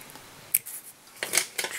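Scissors snip wool while a fly is tied at the vise, a few short, crisp cuts spaced apart, close and fairly quiet with no talk over them.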